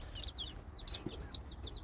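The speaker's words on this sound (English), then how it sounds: "That's our rooster. Our Buckeye rooster." A Buckeye rooster clucks in short, sharp bursts, several quick calls repeated at close range over light background noise.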